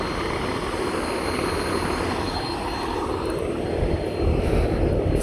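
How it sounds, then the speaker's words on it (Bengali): A passenger launch boat passes on the river with a loud, steady engine roar and rushing drone that swells slightly near the end, heard alone without speech. "এই যে আরেকটি লঞ্চ যাচ্ছে"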